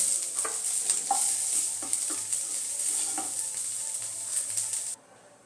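Soya chunks frying in oil with a steady sizzle and rhythmic scraping strokes of a spoon stirring through the pan, close by; the frying cuts off abruptly near the end.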